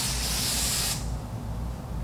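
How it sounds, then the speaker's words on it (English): Double Take insecticide aerosol can spraying into the air, a loud, close hiss lasting about a second that cuts off abruptly, leaving low background rumble. "If you wanna spray it in the air,"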